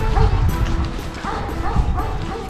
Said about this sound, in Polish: Dobry piesek, nie ucieka.